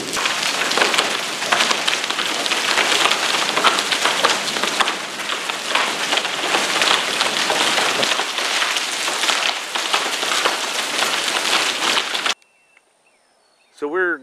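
Steady, dense patter of rain or hail hitting surfaces at a ferrocement house build site, loud and continuous for about twelve seconds before cutting off abruptly, with a brief voice at the very end.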